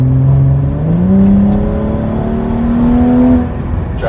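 BMW 340i with a stage 1 tune accelerating hard: a loud, close engine note rising steadily in pitch through the gear, holding strong before easing off near the end, with no voices.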